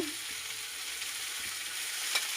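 Carrots frying in a pan alongside already-browned potato and cauliflower, a steady broad sizzle throughout with a few soft stirring knocks, close and fairly quiet, no talking.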